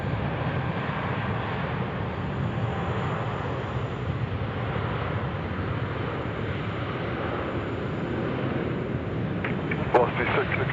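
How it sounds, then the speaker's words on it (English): An Air China airliner takes off from runway 16 right at Sydney Airport at night, a continuous broad engine roar holding steady throughout, with voices faintly under it. "Here we go, Air China, ripping it out 16 right"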